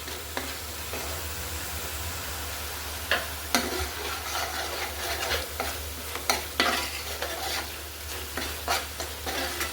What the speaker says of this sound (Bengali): এবার কিন্তু একটু অনবরত নাড়তে থাকতে হবে, যেহেতু আমি এখানে বাদাম বাটা দিয়েছি।